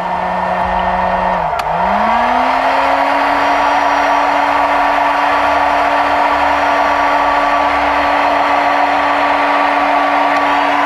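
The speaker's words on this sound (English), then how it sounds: "We'll turn this heat gun on." A heat gun runs with a loud, steady whirring blower drone that briefly dips as it switches on, then holds an even, unbroken tone close by for the rest of the stretch.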